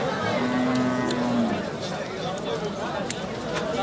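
A cow moos in one long, low call at a busy livestock market selling dairy cows and bulls, heard over steady crowd chatter and people talking nearby.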